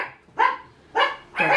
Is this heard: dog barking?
yes